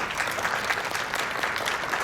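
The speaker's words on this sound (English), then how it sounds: "I recognize a couple of those applauders over there." Steady applause from a conference audience after a keynote speech at an education symposium, a dense even clapping that holds at the same level throughout with no talk over it.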